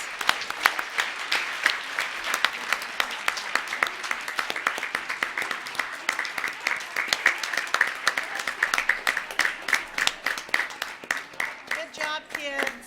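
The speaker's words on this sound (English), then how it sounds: "can we give them one more round of applause?" A school board meeting audience gives a sustained round of applause for departing children, with dense, steady clapping building through the middle and voices mixed in toward the end.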